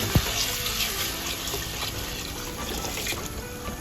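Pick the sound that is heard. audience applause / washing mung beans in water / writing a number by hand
washing mung beans in water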